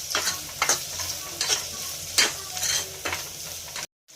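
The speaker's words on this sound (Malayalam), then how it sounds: "ഇനി നമുക്കിതിലേക്ക് 2 സവാള ചെറുതായി കട്ട് ചെയ്ത് ഇട്ട് കൊടുക്കാം. ഇതിനെ നന്നായിട്ട് വഴറ്റിയെടുക്കണം." Chopped onions sauté in a hot pan for a brinjal dish, a steady close sizzle broken by repeated scraping stirs of a spatula, ending in a brief abrupt silence.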